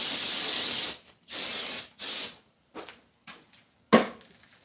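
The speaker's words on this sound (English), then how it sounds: "I'm going to get some parts cleaner. Brake clean, parts cleaner, whatever you want to call it." Brake parts cleaner sprayed onto the oily deck of an Oldsmobile 403 engine during teardown: several close, loud hissing bursts, two long and then a few shorter spurts with gaps between.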